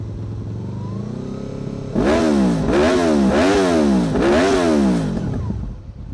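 Motorcycle with a Delkevic titanium exhaust, baffle removed, idling then blipped through four quick revs in a row, close and fairly loud, with no talk.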